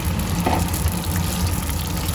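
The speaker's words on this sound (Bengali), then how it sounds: "দিয়ে কেটে রাখা ঢেঁড়সটা দিয়ে দিচ্ছি তেলের উপর" Cut okra hits a wok of plenty of hot oil, giving a continuous, fairly loud bubbling sizzle with a brief sharper burst near the start and no talk.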